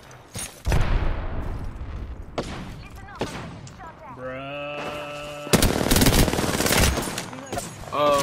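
Gunfire in the video game Apex Legends, sharp bursts of rapid weapon fire in clustered volleys, loud and close, with game sound effects between shots and a voice talking.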